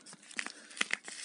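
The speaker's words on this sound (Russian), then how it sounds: "Распечатывать будем раскладными ножницами из Китая." A parcel from China being cut open with folding scissors: quiet, close crinkling and short tearing snips of packaging in a few quick bursts.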